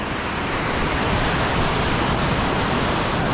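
A river swollen with snowmelt rushes loudly and steadily beneath a bridge on the trail toward Bishop Pass, a broad, constant roar of water with no voices.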